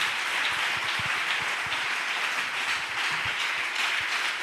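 A church congregation applauds together, a dense continuous wash of clapping that holds steady and fairly loud throughout, with no voices above it.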